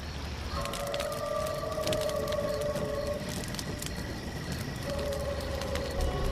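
Wolf howling in a forest at night from a film, two long rising and falling howls with overlapping voices, moderately close over a steady hiss of crickets and ambient noise.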